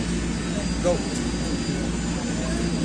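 A passenger airplane's engines give a steady, loud broadband roar throughout, heard outdoors in Rome, with a voice speaking over it.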